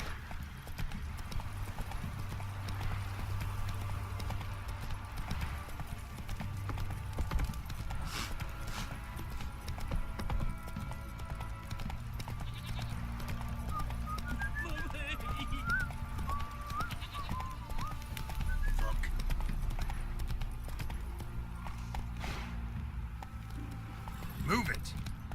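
A horse's hooves clip-clop in a steady trot during riding in The Witcher 3, with game voices talking over it and a brief whinny amid music and ambient sound.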